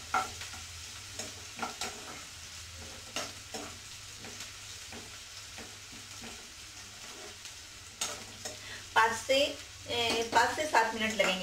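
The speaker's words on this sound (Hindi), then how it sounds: "और हम इसको हल्का ब्राउन होने तक चलाएंगे।" A pav bhaji mixture frying in a pan as it is stirred toward light brown, with repeated scraping strokes over a soft sizzle that grows busier and louder near the end.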